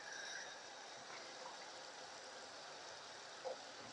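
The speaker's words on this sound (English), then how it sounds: "And then I want to add some more water." Water poured into a cooking pan while making chicken balti, a steady soft trickling stream that runs for several seconds at low level, with a small splash near the end.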